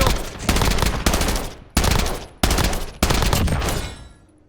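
Gunfire from the video game Warzone, loud rapid automatic bursts in several close, dense volleys that end in a fading tail, with no talking.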